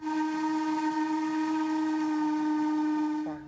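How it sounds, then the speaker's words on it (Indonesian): A toy steam train gives one long, steady, shrill whistle with layered tones, loud and close, lasting about three seconds before abruptly dropping in pitch and cutting off. "Wow, ini adalah kereta uap"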